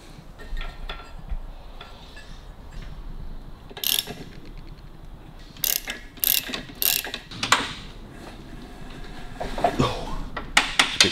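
Ratchet clicking in short bursts while spark plugs are tightened on a Harley Davidson WLA motorcycle, close and fairly loud, with pauses and light workshop handling noise between the runs of clicks.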